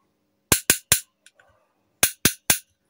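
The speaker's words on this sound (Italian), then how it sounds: "Questo è il suono del Callfish in carbonio e con rotellina resina" A carbon fiber Callfish spearfishing fish call with an epoxy resin wheel, sounded in two bursts of three sharp, loud clicking snaps with a few faint ticks between them.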